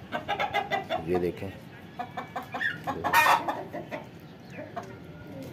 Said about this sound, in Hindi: ये मुर्गी मेरे ख्याल में अंडा दे रही है, ऐसा कर रही है को को को को को